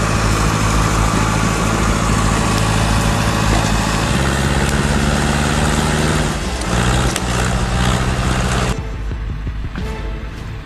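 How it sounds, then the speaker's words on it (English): John Deere 440A skidder hauling massive logs through a frozen forest. Its engine drones loudly and steadily at close range, shifting pitch a few times as it works, then drops to a quieter hum near the end. No one speaks. "The John Deere 440A skids massive logs through the frozen forest, carving its path with unstoppable power."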